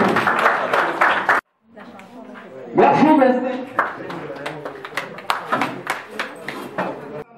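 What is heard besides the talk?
applause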